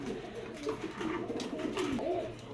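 Teddy pigeons, a foreign breed, coo in low, soft, rolling calls at close range over a steady background hum, with several overlapping birds.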